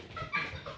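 Beagle puppy whimpering in a short, thin whine that rises briefly mid-clip over low room noise, close and fairly quiet, with no talk.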